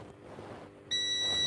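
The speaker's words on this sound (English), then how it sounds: "That's the multimeter beeping." After a quiet hiss, a multimeter's continuity test beep, steady and high-pitched, starts abruptly and holds continuously to the end.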